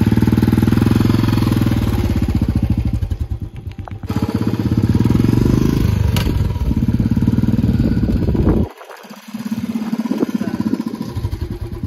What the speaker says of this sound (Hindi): रास्ता बहुत खराब है, पहली बार बुलेट चला रहा